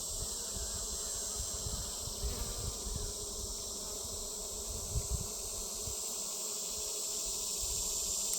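Honey bees buzzing around an open beehive, a dense continuous droning hum from many insects close by, steady and fairly loud throughout with no talking.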